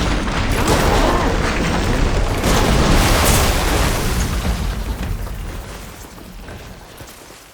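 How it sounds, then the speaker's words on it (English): Glowing crystals detonate in the video game Horizon Forbidden West, producing one big, close, roaring explosion that rumbles heavily for a few seconds and then slowly fades out, with no voices over it. "Hey, big explosion!"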